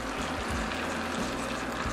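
Vegetable stock splashes and gurgles as it is poured from a container over chopped tomatoes in a pan, a steady close-up liquid sound lasting about two seconds.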